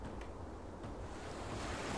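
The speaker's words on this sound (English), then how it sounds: "you'll start to hear the water" A steady wash of water, like surf or flowing waves, rises slowly in loudness across a couple of seconds, soft and continuous.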